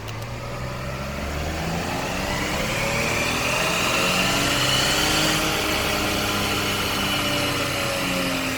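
A tuned 2018 Ford F-150 2.7 EcoBoost pickup with a 10R80 transmission runs hard on a dyno, a loud sustained engine and drivetrain roar with rising pitch as it accelerates through the gears.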